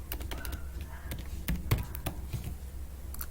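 Light keyboard typing while writing a line of HTML code, a short run of soft clicks with a couple of sharper keystrokes, fairly faint over a low background hum.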